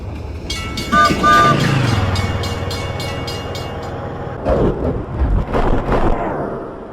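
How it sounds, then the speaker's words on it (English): A train engineer sounds the horn in three short blasts as the train backs up, the tones loud and close over rumbling rail noise, followed by heavier clanking and rolling sounds from the moving cars. "the engineer gives 3 short blasts on the horn to let everybody know the train is backing up"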